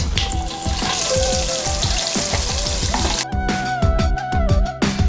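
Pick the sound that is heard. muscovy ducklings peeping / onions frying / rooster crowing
onions frying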